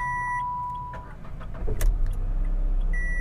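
A Datsun Redi-Go 800cc car engine cranks and catches at close range, a short whir followed by a rumbling start that settles into a steady low idle, with chimes from the dashboard beforehand.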